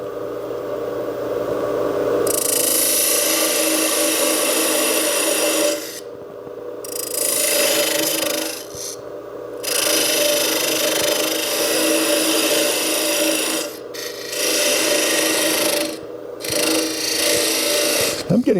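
Woodturning gouge cutting a tulipwood bowl on a lathe, catching and chattering over a knot: a steady close rasping scrape with brief pauses where the tool lifts, running continuously under a low motor hum.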